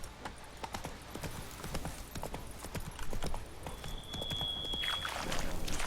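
A horse galloping in The Witcher 3, its hooves drumming in a quick, steady clip-clop rhythm that runs throughout over ambient game sound, with a brief high whine near the end.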